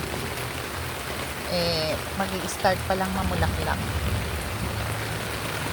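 Steady heavy rain hisses throughout, with a person talking briefly over the downpour.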